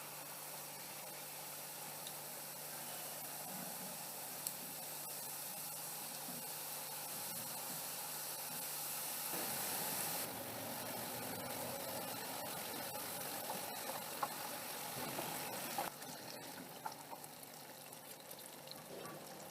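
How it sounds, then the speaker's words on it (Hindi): Jalebi frying in hot oil, a quiet steady hiss and gentle bubbling sizzle that grows fuller midway, with faint scattered crackles and no talking. "चलिए इसी तरह से बाकी की भी फ्राई कर लेंगे"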